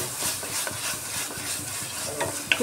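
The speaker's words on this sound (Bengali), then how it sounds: "ঢাকাটা উঠিয়ে ভালো করে কষিয়ে নিচ্ছি, তেল ছেড়ে আসছে মশলা থেকে।" Spice paste for okra masala fries in oil in a pan while a spoon stirs and scrapes in quick, repeated strokes, close up over a steady low sizzle.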